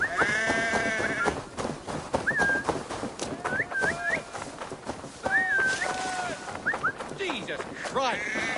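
Sheep bleating in Assassin's Creed Valhalla, several wavering, nasal bleats repeating at irregular intervals over a busy game soundscape, fairly close and clear.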